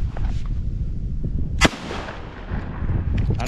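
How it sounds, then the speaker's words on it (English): A single sharp blast from a Benelli SuperNova Tactical 12-gauge pump shotgun cracks out at an outdoor range, one loud report amid a low, rumbling background. "I will shoot only one time."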